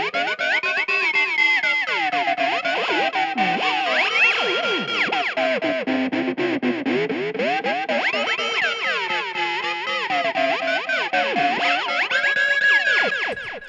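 A heavily processed instrument track with amp simulation, EQ, reverb and delay plays continuously: sustained, distorted tones gliding and bending at an even, loud level, with echoing tails and no voices.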